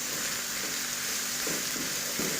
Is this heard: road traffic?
no